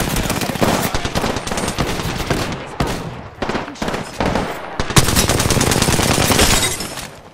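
Rapid automatic gunfire in Apex Legends, loud dense bursts of shots in quick rhythm with brief pauses near three and five seconds, close and dominant throughout.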